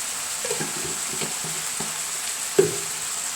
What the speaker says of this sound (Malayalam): ഇനി നന്നായിട്ട് ഇളക്കി